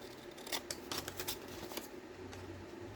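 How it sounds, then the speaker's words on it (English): Scissors snipping through a paper flap while making a Victorian folio, several quick crisp cuts close up and quiet, with no talking. "now I'm going to cut the flap"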